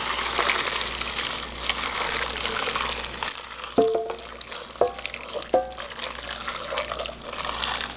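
Fish sauce brine for pickled Korean melon bubbles and seethes in a pot up close, broken later by a few gurgling liquid splashes.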